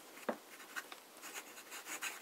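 A Conway Stewart Kingsand fountain pen nib scratches across paper in a few short, soft strokes, close and quiet, with no one talking.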